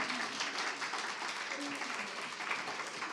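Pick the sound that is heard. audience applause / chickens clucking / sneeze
audience applause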